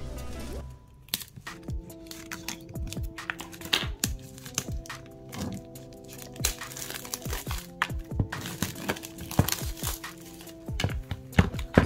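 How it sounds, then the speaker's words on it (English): Plastic wrapping is cut with scissors and torn off a tarot card deck in close, loud crinkling and crumpling bursts with sharp snips, continuing in an uneven rhythm throughout. "Let me get my scissors here to open the deck."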